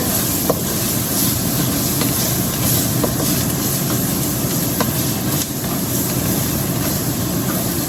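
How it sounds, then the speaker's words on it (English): Garlic sautéing in a pot as the base for a sausage and white bean soup, a steady close sizzling hiss with scattered small pops and crackles, no talking. "you want just to saute this just until it's fragrant"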